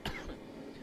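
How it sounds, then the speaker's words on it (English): A single short cough, close and moderately loud, from a man working at a forge while knife making, with a raspy throat-clearing tail that fades into the shop's background noise. "this goddamn cough still won't go away."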